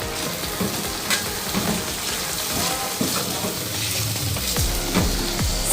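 Fish karahi masala with red chilli powder sizzling and frying in a pan while being stirred, a steady crackling hiss broken by scraping stir strokes, close and continuous with no talk.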